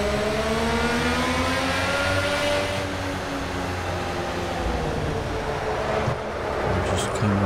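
Race car engine in the Project Cars video game, loud and close, climbing in pitch through gears with rising harmonics, then dropping and revving again, with a brief sharp burst near the end.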